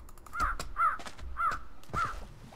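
Bird mob from a modded Minecraft 1.7.10 world cawing four times in a steady rhythm, harsh crow-like calls standing out clearly over low game background noise.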